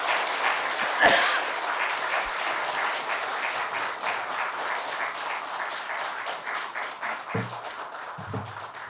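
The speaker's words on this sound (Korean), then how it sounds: "새로운 교회에서 열심히 사역해 주십시오 하는 축하의 박수 해 주시기 바랍니다" A church congregation at a Sunday service claps in congratulation for a departing minister, a sustained, even round of applause heard from within the room, with a brief sharp knock near the start and a low voice briefly underneath.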